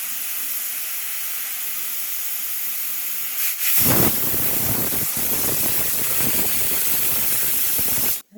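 Pressure cooker on the stove letting off steam: a steady high hiss builds, then bursts into a loud, rough whistling rush of venting steam lasting several seconds before cutting off abruptly.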